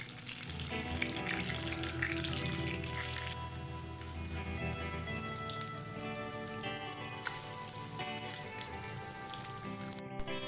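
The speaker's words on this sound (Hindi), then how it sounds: "ये हम इनको गोल्डन ब्राउन होने तक दोनों साइड से अच्छी तरह से फ्राई कर लेंगे।" Chicken patties fry in hot oil until golden brown, giving a dense, continuous sizzle and crackle that stays close and even for the whole stretch, with no voices.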